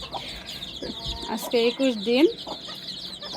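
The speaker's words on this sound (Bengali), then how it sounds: "মুরগিকে খাবার দিচ্ছি, বাচ্চাগুলা খাচ্ছে" Chickens and their chicks cluck while they eat at night after vaccination, giving a close, busy mix of short clucks and a few rising calls, with a voice talking over them.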